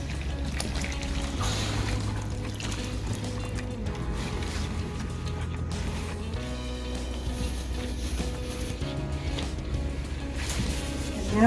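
Water poured into fresh potting soil around a newly planted Dracaena stump, a steady soft trickle that goes on for the whole clip over a low background hum.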